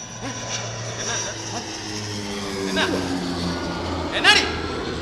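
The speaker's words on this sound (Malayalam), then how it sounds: "ദേ വിമാനം." An airplane passes overhead as a steady, loud engine drone that slowly shifts pitch over a few seconds, with people talking nearby.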